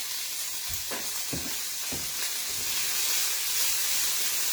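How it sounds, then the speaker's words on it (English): Vegetables stir-frying in a pan over medium heat, a steady bright sizzle and hiss with a few scraping stirs near the start, loud and close with no talking. "whenever I'm cooking something like this, stirring fry stuff like this, again, on medium"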